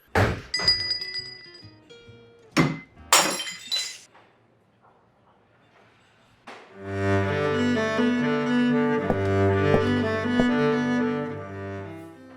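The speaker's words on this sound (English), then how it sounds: "And so he drops the glass. You can hear it hit the lip of the trash can and hit the ground." A dropped glass strikes the lip of a trash can and then the ground, producing a couple of bright clinks and thunks with ringing tails, followed by a swelling passage of sustained background music.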